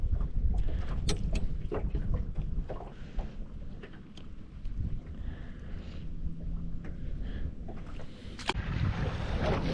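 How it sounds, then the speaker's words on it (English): Wind gusting across a lake beside a small fishing boat, a steady rushing roar with occasional knocks and water slaps close by, no talking. "The wind's picking up here a little bit."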